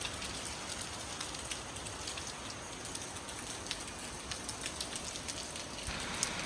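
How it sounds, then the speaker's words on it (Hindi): Steady rain falls in Shillong, a dense, even hiss of drops on surfaces that holds at the same level throughout with no voices. "शिलोंग आए और बारिश ना हो।"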